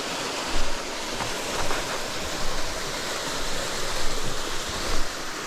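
Steady broadband rush of a waterfall along the Pine Mountain Trail, loud and continuous from start to end, with small surges in the flow and no voices.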